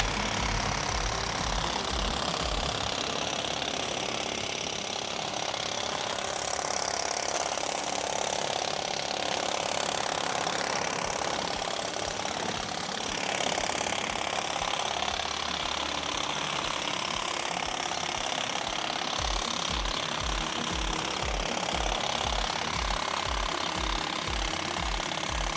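A Fanttik Z10 Pro cordless hedge trimmer runs continuously while cutting into a bush, a loud, close buzzing chatter of reciprocating blades with irregular crunching of branches throughout.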